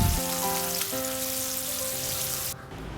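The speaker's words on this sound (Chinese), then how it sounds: "差不多炸到这样外表金黄了就可以了" Fish deep-frying in hot oil gives a dense, loud, continuous sizzle up close, with a faint tonal hum underneath. It cuts off abruptly near the end, leaving quieter background noise, and nobody speaks.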